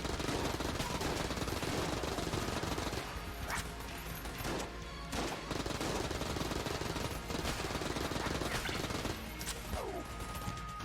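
Double Klobb guns in the Enter the Gungeon game firing in continuous rapid bursts, dense rattling gunfire filling the whole stretch with brief gaps and crashing impacts, no talk.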